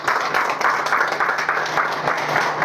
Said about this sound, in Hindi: तो अपने लिए ताली बजा दीजिए